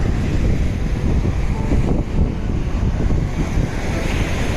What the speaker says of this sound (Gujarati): શું મોજા ઉછરે છે.